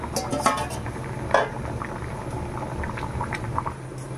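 A fish-roe and elephant foot yam curry bubbles steadily in a covered pot, a soft, continuous boiling texture, with a couple of brief clinks of a lid or utensil near the start.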